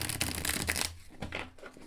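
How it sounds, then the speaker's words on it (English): Llewellyn tarot cards are shuffled by hand, a quiet rapid riffle of papery flicks followed by softer, scattered rustling. "you know how Llewellyn cards shuffle. They shuffle amazingly."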